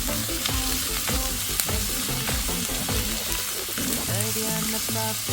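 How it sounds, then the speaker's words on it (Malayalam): Onions and green chilies fry in hot oil for kappa biriyani, a dense steady sizzle broken by frequent clattering scrapes of a spoon stirring, close and fairly loud throughout. "നന്നായിട്ട് നമുക്ക് ഇളക്കി ഒരു ലൈറ്റ് ബ്രൗൺ കളറാവുന്നവരെ നമുക്ക് ഇളക്കി യോജിപ്പിക്കാം."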